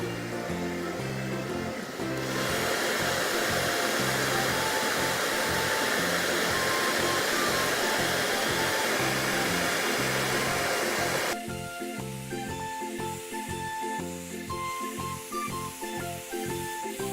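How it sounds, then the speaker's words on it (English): A hair dryer blows steadily on a cartoon picture book, a loud continuous whooshing roar that holds for several seconds before dropping off, with background cartoon music underneath. "Finally, blow dry picture book."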